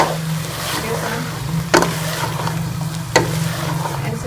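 Pumpkin (petha) halwa fries and is stirred in a pan while yellow food colour is mixed in, giving a soft steady sizzle with two sharp scraping knocks of the spoon against the pan.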